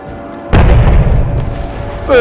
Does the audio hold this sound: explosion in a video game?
yes